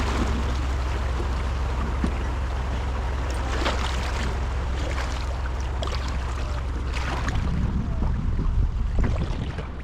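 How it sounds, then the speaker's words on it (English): A kayak rides through whitewater rapids on a river, with steady rushing, splashing water throughout and brief sharper sloshes and knocks close by, getting a little louder toward the end; no one speaks. "Whee, it's like Whitewater Rapids."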